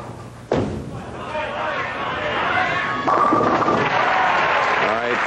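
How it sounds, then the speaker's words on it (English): Bowling ball striking pins for a strike at a 1982 professional bowling tournament, a sharp slam and clatter followed by crowd chatter and applause, with announcer talk. "in the ninth frame, a strike for Tom Baker"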